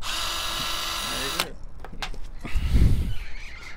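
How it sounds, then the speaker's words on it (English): A power drill with a large bit runs steadily drilling a vehicle bumper hole, then stops abruptly, leaving scattered clicks and handling noises and a low thump. "Start drilling with the bigger drill bit."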